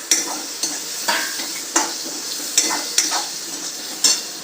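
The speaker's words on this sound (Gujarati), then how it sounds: "જે બટેટા આપણે ફોલીને સુધારીને રાખ્યા છે અંદર મિક્સ કરી દઈશું આપણે" Peeled, chopped potatoes are stirred into a pan with chili and yogurt: a sizzling bed of frying under repeated scraping stirs of a spoon, roughly one stroke per half second, close and fairly loud, with no talk.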